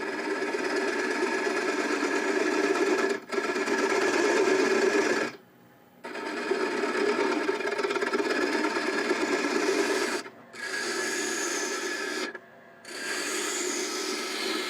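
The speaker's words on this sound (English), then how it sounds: "Go back to the 3/8 inch bowl gouge. I just want to cut that cone." A 3/8 inch bowl gouge cuts a wooden cone spinning on a lathe during a bird feeder build, giving a loud, continuous shaving hiss broken by a few short pauses where the tool lifts off.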